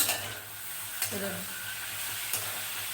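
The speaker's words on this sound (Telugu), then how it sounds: "ఇలా జాగ్రత్తగా దగ్గరికి వేయించుకోవాలి ఇలా మూత పెడుతూనే వేయించాలి" Vegetables frying in a covered pan make a faint, even sizzle with a few soft stirring clacks at intervals.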